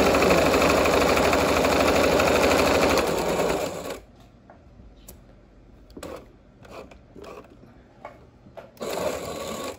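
A sewing machine stitches the pocket of a pair of shorts, running in a loud, steady, rapid whir for about four seconds and then stopping, followed by scattered quieter clicks and handling noises before a short burst of stitching at the end.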